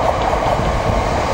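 A First Capital Connect passenger train bound for Cambridge passes close by at Royston station, giving a loud, continuous rumble and rush of wheels on rails.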